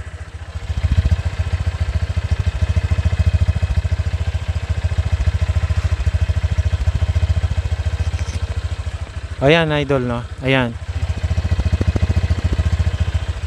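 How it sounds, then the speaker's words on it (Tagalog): A 2023 Honda Click 125i scooter engine idles close by with a steady low hum, briefly interrupted by someone speaking near the end. "ito yung sound check ng kanyang motor,"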